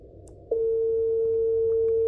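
A steady signal generator tone picked up on a radio receiver and tested with a tinySA Ultra, switching on abruptly after half a second over a low hum of receiver noise, then holding constant and clear.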